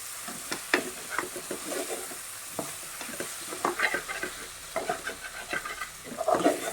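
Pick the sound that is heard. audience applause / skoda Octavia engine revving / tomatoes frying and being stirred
tomatoes frying and being stirred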